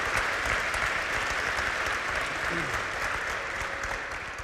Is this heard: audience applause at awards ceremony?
yes